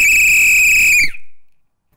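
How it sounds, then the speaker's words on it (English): A single loud, piercing survival whistle blast held for about a second, then cut off sharply with a brief echo trailing away. "this whistle is really, really loud. Let me show you now."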